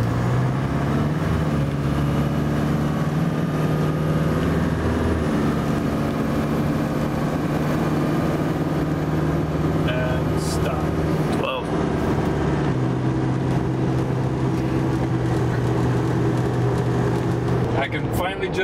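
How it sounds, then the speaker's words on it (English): A Cummins 4BT 3.9-litre diesel in a Tahoe idles and runs steadily at close range with its turbo spooling, a continuous loud engine drone with brief shifts in pitch partway through, and no one speaking over it. "Just hear the turbo now."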